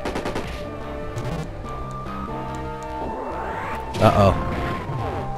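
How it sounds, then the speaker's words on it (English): Bombs exploding in the video game Mother 3, a burst of sharp blasts over the game's tonal music with a louder impact near the end, and a voice speaking briefly over it. "I'm just gonna wail on him with the bombs."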